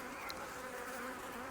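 Honey bees swarm and buzz around a large beehive that holds two queens, a dense, steady drone that fills the whole stretch with no pauses.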